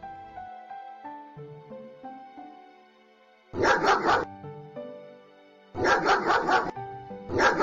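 A dog barks in two short bursts of several rapid barks each, close and loud, set against a simple musical melody.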